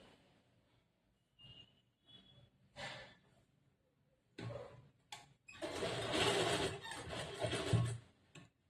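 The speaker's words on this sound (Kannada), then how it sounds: "ಇವಾಗ ಹಿಂಗ್ ಟರ್ನ್ ಮಾಡ್ಕೊಂಡು ಈ ಕಡೆಯಲ್ಲಿ ಸ್ಟಿಚ್ ಮಾಡ್ಬೇಕು" A sewing machine stitching a back-hook blouse in a tailoring class: short quiet bursts at first, then a longer, louder run of steady whirring and clatter near the end, with soft breathing in between.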